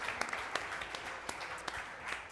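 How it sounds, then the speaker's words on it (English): An audience applauding panelists at the close of a startup venture capital panel, a steady patter of many hands clapping with a few sharper individual claps standing out. "Please, a round of applause for our panelists."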